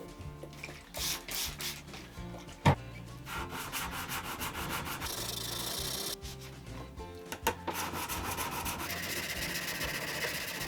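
A blade being sharpened flat on a sharpening stone, close, continuous rhythmic scraping and rubbing strokes with occasional knocks, sustained through to the end.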